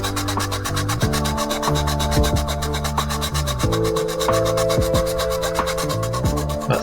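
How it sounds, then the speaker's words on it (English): Steady rasping strokes of a file enlarging a hole in plastic car trim for a cigarette lighter socket on a Mitsubishi, close and continuous with a constant background hum. "a little more filing, and that should slide in nicely there."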